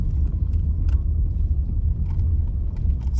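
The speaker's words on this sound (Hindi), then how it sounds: "मजा आता है यार पहाड़ पे गाड़ी चलाने में" A car climbs a mountain forest road in Uttarakhand, its engine a steady low rumble with road noise throughout, close and continuous, with faint clicks and rattles above it.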